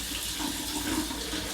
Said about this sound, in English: We turn on the water, warm to hot.